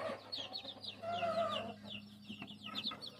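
Young hens in a backyard coop cluck and chatter in quick overlapping calls, fairly close and moderately loud, with one longer drawn-out call in the middle.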